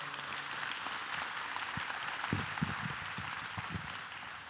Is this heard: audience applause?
yes